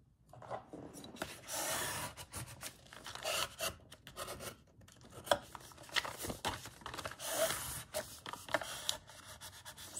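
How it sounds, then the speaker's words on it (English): Burnishing a folded paper journal cover: quiet, uneven rubbing and scraping strokes against paper, close and soft, with irregular short bursts and no talking. "what I'm doing here is burnishing it"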